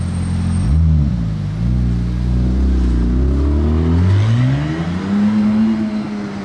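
A McLaren Artura sports car engine revs loudly and close by in wintry Monaco, its pitch climbing and dropping in several throaty surges with no voices.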